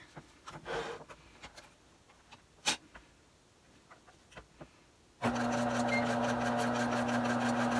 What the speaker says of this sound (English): So now I'm just going to sew in a square all the way around here.